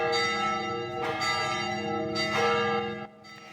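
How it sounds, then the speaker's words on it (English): Church bells ringing at a cathedral in the Philippines, rich sustained tones with repeated strikes roughly every second or so, loud and resonant, fading near the end. "bells were rung in cities across the world after the conclave, including at this cathedral in the Philippines"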